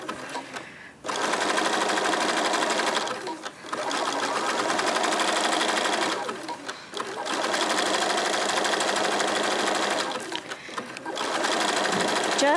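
A sewing machine stitches the sides of a fabric bag made from a jelly roll, running in long steady buzzing runs of a few seconds each, separated by short pauses.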